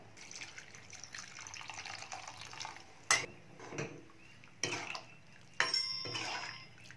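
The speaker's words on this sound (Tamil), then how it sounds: "இப்போ புளி தண்ணி சேர்த்துக்கிறேன்." Tamarind water poured into a simmering brinjal curry in a home kitchen, soft liquid splashing and bubbling with a few sharper clatters and pours, fairly faint overall with no talk.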